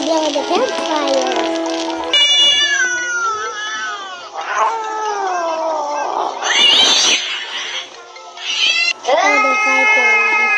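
Cats yowl and caterwaul in long, wavering, drawn-out cries that overlap and rise and fall, loud and close, playing back from a video as a fight sound.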